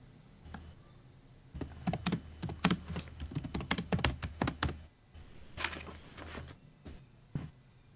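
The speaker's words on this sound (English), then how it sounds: "We can hear your keyboard." Rapid clattering keystrokes on a computer keyboard come in bursts close to an online meeting microphone, with brief pauses between flurries and no talking.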